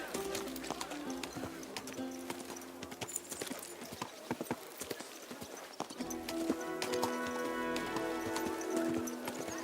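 Horse hooves clip-clop on a town street in Kingdom Come: Deliverance II, a quick, uneven run of close hoof strikes with music or ambience underneath and quiet sounds in the background.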